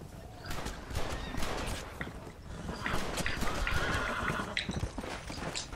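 A horse gallops in the video game Red Dead Redemption, with quick uneven hoofbeats and a whinny amid ambient game sound, fairly close and moderately loud.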